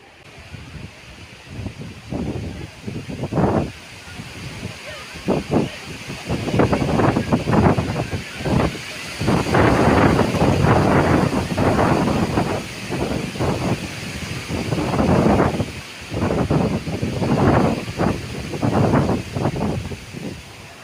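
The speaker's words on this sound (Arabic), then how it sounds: "بداية الرياح القوية التي تدل على بداية العاصفة الرعدية" Strong gusting wind at the onset of a thunderstorm near Ourika and Ouarzazate, Morocco, roaring in loud, surging bursts that rise and fall across the whole stretch, with no talk.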